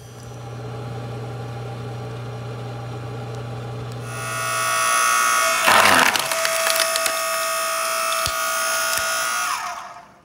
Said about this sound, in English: This little log splitter from Harbor Freight.